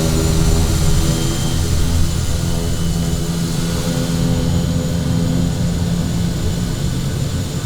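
Kodiak aircraft engine at takeoff power in Microsoft Flight Simulator 2020, a loud, steady propeller-engine drone with a continuous broadband roar running throughout, with no voices heard.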